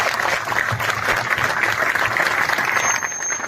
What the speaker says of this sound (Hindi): साथियों, उनके लिए जोरदार ताली होनी चाहिए।